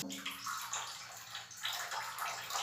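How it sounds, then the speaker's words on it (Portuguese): Household bleach is poured into water in a bucket for cleaning a very dirty house, a continuous splashing, gurgling pour that swells and eases, close and fairly loud. "E agora eu vou estar colocando a água sanitária."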